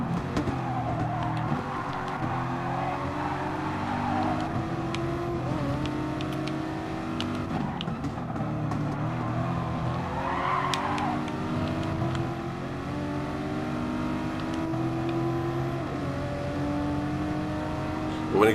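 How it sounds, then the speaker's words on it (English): Nissan GT-R race car in GT Sport at Monza, its engine droning loud and steady throughout with shifting revs and gear changes, broken by brief tonal bursts. "But when it gets going, this GTR, it really gets going."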